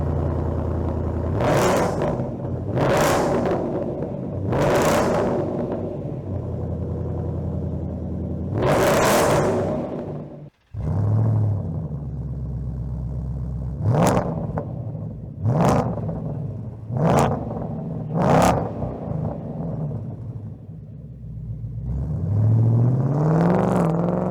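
A 2024 Ford Mustang GT fitted with an MBRP Race catback exhaust rumbles at a loud, close idle, broken by a series of sharp throttle blips that roar up and fall back, one brief drop near the middle.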